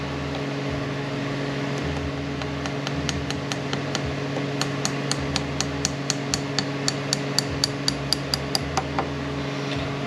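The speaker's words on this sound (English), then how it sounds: "I got to put the roll pin in there" A roll pin driven into the back of a T5 transmission shaft with a hammer, a long series of sharp metallic taps that quicken into an even rhythm, close and clear over a steady mechanical hum.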